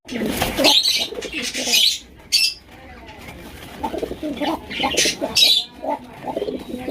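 Bashiraj pigeons coo in repeated soft, throaty bursts, close by, with occasional chirps and brief flutters at a bird market.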